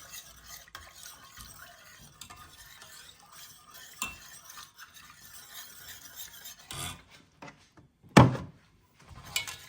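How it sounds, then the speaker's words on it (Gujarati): Milk being stirred into a pasta sauce in a pan, heard as a steady close scraping and swishing of a spoon, with a few louder knocks against the pan near the end. "એકદમ સરસ રીતે પેલા મિક્સ કરવાનું, કે જેથી આને ગાંઠો ના પડે"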